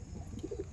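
A single pigeon gives a short, low coo from a loft flock, a brief soft call over quiet room noise.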